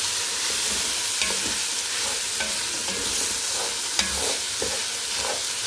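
Duck pieces sauté in a pan of oil, seasoned with salt and pepper, producing a loud, continuous close sizzle with occasional stirring scrapes and light taps throughout.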